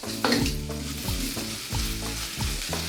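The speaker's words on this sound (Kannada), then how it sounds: "ಕ್ಯಾರೆಟ್ ಹಾಕಿದೆ. ಜಾಸ್ತಿ ಫ್ರೈ ಮಾಡೋಕ್ಕೆ ಹೋಗ್ಬಿಡಿ, ತುಂಬ ಬೆಂದೋಗ್ಬಿಡುತ್ತೆ. ಆ್ಯಂಡ್ ಬೀನ್ಸ್ ಕೂಡ ಹಾಕ್ಕೊಂಡೆ." Carrots and beans are stir-fried for egg fried rice, a close steady sizzle with rhythmic scraping strokes of the spatula repeating about every half second, with no voices.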